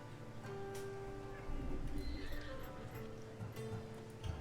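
Horse hooves in Assassin's Creed Odyssey, soft rhythmic clip-clop steps under game music and ambient sound, with someone speaking over parts of it.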